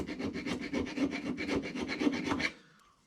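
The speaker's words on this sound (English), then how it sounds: "So I like to run a file across them, clean them up, get them down to good clean metal." A metal file rasps rust off a Subaru Forester brake bracket in quick, even back-and-forth strokes, close and crisp, ending in silence.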